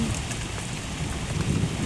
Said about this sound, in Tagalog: At kumukulog pa